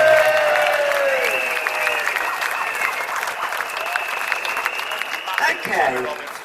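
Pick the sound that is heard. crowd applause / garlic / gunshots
crowd applause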